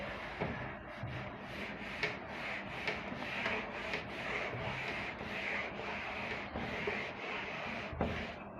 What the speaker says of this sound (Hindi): इतने में मैं इसको रब कर देता हूँ।